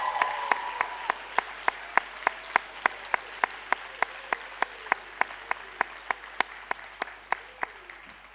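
Audience applause for debate finalists at a forensics and debate impromptu finals event, steady clapping with distinct sharp claps ringing out at a regular rhythm over a soft hall murmur for the whole stretch.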